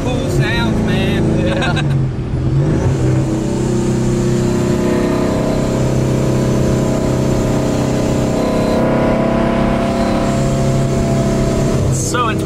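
Ford Mustang S197 engine revving and droning steadily from inside the car, a loud continuous rumble with rising and falling pitch, with people talking over it.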